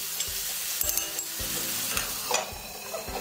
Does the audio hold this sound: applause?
no